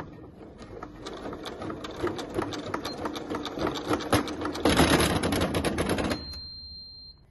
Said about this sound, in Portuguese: E aqui você pode ir até aonde a sua máquina conseguir chegar